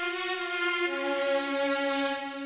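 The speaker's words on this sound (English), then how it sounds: "For layers, I just found this little Mellotron string." Mellotron string layer holds one steady, warm sustained chord, with a slight change in the lower notes partway through, heard alone and up close.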